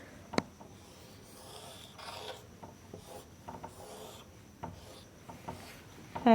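Chalk scratches and rasps across a classroom board as a table of values is written out for a graph, giving faint, close strokes and occasional sharper taps in an irregular rhythm.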